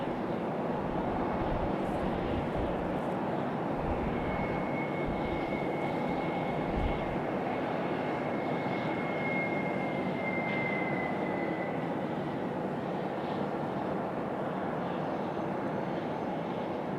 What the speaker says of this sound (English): Still have that A321 out there ready for departure in just a moment.